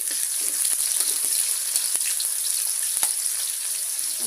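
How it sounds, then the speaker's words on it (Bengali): Chopped garlic, five or six cloves, and two chopped onions sizzle steadily in hot oil for a leafy greens dish, a continuous crackling hiss with occasional stirring knocks, close and alone. "রসুন কুচি দিয়ে দিলাম পাঁচ ছয় কোয়া দুইটা পেঁয়াজ কুচি দিয়ে দিলাম"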